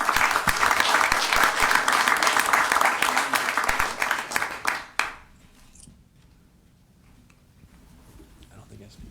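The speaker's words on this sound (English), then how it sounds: "So I've got a round of applause for our public works folks." Sustained applause from the audience at a city council meeting, dense clapping for about five seconds before cutting off into near silence.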